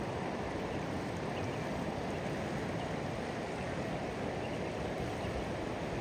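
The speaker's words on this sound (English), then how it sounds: "Those are rapids, y'all." River rapids rushing along a road in Alaska, a steady, dense broadband roar of churning water at a moderate distance, continuous and unbroken with no voices.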